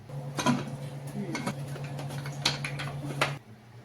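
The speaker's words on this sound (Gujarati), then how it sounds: "કુકરનું ઢાંકણ બંધ કરીશું" A pressure cooker lid is closed over a batch of rice papad dough, giving a few sharp metallic clicks and clanks, close and moderately loud, over a steady low kitchen hum.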